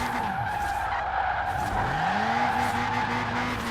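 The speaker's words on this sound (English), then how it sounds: "in this car, I need to get used to the slower drift like this" A Toyota Trueno AE86 Enjuku Racing Edition drifting in Forza Horizon 4, tires squealing steadily through a slow slide while the engine drones and rises in pitch, loud and close with no talk.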